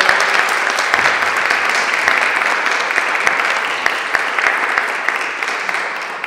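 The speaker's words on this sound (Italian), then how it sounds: "fare un grande applauso a Beatrice, all'anima di questo progetto" Audience applause fills a prize ceremony in Florence, a dense, steady roar of many hands clapping at once that holds at full strength throughout with no voices over it.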